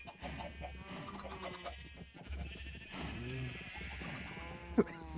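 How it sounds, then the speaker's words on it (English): Minecraft sheep bleat several times on a farm with cows and chickens, wavering calls overlapping at moderate distance, quiet against a low background with faint talk. "A lot of cows, lots of sheep."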